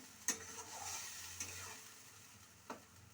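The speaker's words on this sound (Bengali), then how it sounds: "এটা হতে থাকুক, মশলাটা কষতে থাকুক।" Masala for dal katla fries in a pan, a faint steady sizzle broken by three brief stirring scrapes, quiet and close with no voices.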